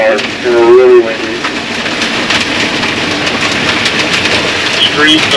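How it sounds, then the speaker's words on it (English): Heavy rain and strong wind roar in a broad, continuous wash outdoors near crop fields, with a voice briefly speaking over it. "It's raining really hard and really windy."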